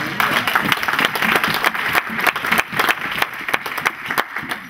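Congregation clapping in a church, a dense steady wash of applause with sharp individual claps popping through, fairly close and sustained, with a faint voice underneath.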